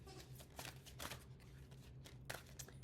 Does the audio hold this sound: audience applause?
no